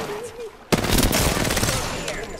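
Video game gunfire erupts after a brief quiet lull, a loud sustained burst of rapid automatic shots, with a voice talking faintly underneath.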